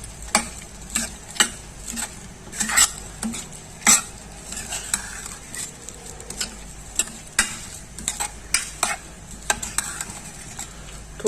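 Spices with garam masala and red chilli fried in a pan, a steady sizzle under repeated scraping stirs and sharp clinks of a spoon on metal, close and busy with no voices.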